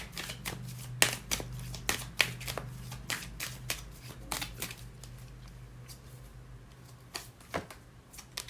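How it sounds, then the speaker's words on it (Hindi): Tarot cards are drawn and shuffled from a deck in a string of crisp, close paper snaps and riffles, quick irregular bursts over a low steady hum, with no voices. "तो अब हम और कुछ कार्ड्स निकालते हैं टैरो कार्ड से"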